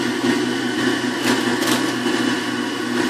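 A juicer whirs steadily on its low speed setting, a continuous close motor drone with a buzzy mechanical tone and brief brighter rattles, running alone without any talking.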